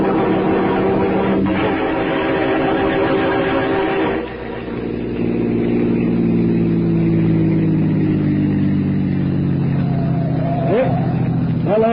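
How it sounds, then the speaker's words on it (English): Car engine driving as a radio drama sound effect, a loud, steady mid-pitched motor drone that shifts gear partway through and keeps humming, with a brief squeal near the end. "I got my car outside so we can get there ahead of Parker."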